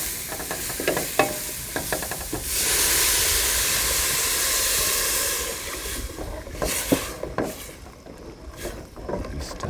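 Sweet potato and red apple soup with added stock bubbles and hisses in a pot, while a spoon stirs and clinks against the side before and after the steady boiling rush.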